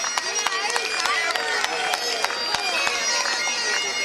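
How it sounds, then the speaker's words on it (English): Crowd at the 2024 Royal Oak St Patrick's Day parade clapping and cheering for a passing bagpiper, with a dense wash of applause, whistles and voices close by for the whole stretch. "Let's put our hands together for number 3."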